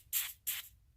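Two short hissing bursts from an aerosol spray can aimed at a car's rear sway bar end link on a Honda Prelude SH, each lasting about a quarter second with a brief gap, fairly quiet and close.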